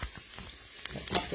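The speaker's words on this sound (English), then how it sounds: "she's sauteing onions" Onions sautéing in a pan for a leek and potato soup, a soft steady sizzle with a few light stirring clicks and scrapes near the end, close and fairly quiet.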